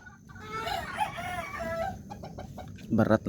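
Young roosters (stags) kept for sale crow and cluck close by, a drawn-out crow followed by a burst of louder clucking at the end.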